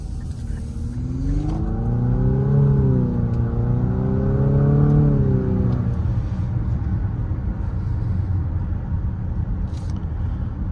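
Engine of a 2024 Infiniti QX50 Sport with a CVT, heard from inside, rises in a smooth droning pull, dips and climbs again, then settles into steady road rumble, loud and continuous with no talking.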